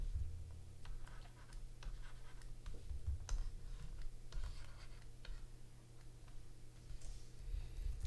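Computer keyboard key presses while sculpting hair in ZBrush, scattered light clicks and taps at an irregular pace over a steady low hum, close and fairly quiet.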